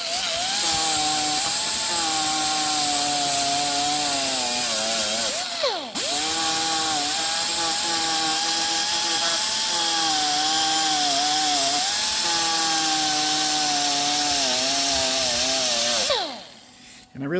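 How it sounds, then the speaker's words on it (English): An air die grinder grinds paint off a steel gate, keeping up a loud, steady high-pitched whine that dips briefly partway through and again near the end as the tool is eased off. "I really prefer the air die grinder to the electric grinder"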